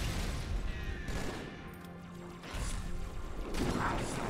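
A grenade blast and gunfire-like bursts sound off in Madness: Project Nexus against a turret, with several loud, sharp impacts spread across a few seconds and a brief lull in between.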